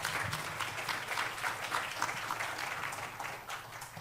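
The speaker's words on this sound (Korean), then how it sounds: "정동영 교수님께 힘찬 박수 부탁드립니다." An audience at a university chemical and biomolecular engineering department information session gives a professor steady applause, a soft wash of clapping that continues throughout at a modest level.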